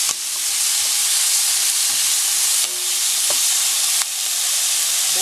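Sautéed shrimp paste stirred in a pot while cooking squash, string beans and shrimp, giving a loud, steady close-up sizzle with a few faint scraping ticks.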